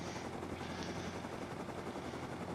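A helicopter in a video game throbs with fast, steady rotor chop, continuous and fairly close throughout a short stretch without talk.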